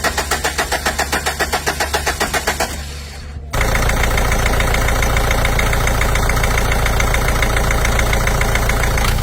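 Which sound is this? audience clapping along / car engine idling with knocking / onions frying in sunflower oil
car engine idling with knocking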